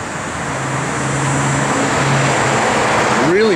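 A 1972 Chevrolet Super Cheyenne pickup engine idles with a steady low drone and a faint rising tone near the end, close and continuous.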